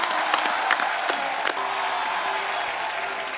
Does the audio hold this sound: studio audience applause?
yes